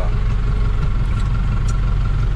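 A tractor engine idles steadily while being backed up in a tight space, a continuous close rumble with an even, unbroken drone and no voices.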